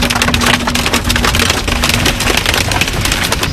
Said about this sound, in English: Battering hail.